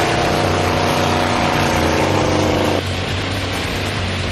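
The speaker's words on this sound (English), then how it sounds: "The engine's revved up and those wheels are really spinning." A junkyard-built power puller vehicle roars with a loud, steady engine drone and hard-spinning wheels, holding full power for nearly three seconds before the pitch drops and a rougher, continuing rumble takes over.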